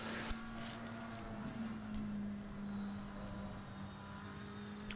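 GT3 race car engines, including a Bentley and a McLaren, in the Assetto Corsa Competizione video game at Spa, a steady droning engine tone held at constant pitch with faint passing cars in the background.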